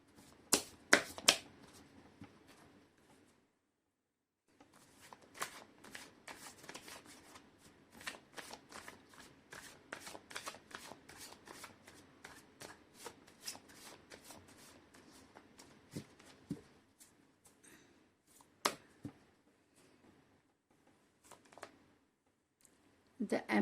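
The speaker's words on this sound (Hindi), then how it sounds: "मैं कर लेती हूँ कार्ड की शफलिंग।" Tarot cards are shuffled by hand in repeated quick riffling bursts with brief pauses between, close and crisp, with no talking.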